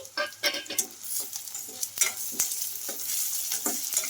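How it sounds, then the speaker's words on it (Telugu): Chopped onions sizzling in hot oil in a pan while a spoon stirs them, with irregular scraping strokes over a steady crackling fry. "మనకు ఆనియన్స్ అయితే కొంచెం గోల్డెన్ కలర్ వచ్చే వరకు అయితే ఫ్రై చేసుకోవాలి"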